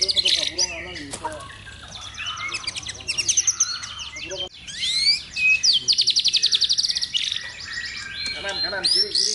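A juata songbird, freshly through its moult, sings continuously in rapid chirping, trilling phrases that come close and loud, with short bursts of sharper calls and no talking.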